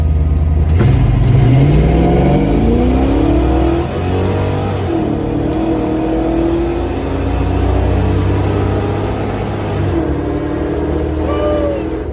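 A fox body Ford Mustang on cold tires revs loud and near, the engine surging through rising pulls with a shift in the middle, tires faintly squealing toward the end.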